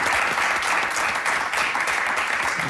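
Studio audience at an Icelandic pop-music quiz show final applauding steadily, a dense, continuous clatter of many hands filling the room at close range, with no break and no voices over it.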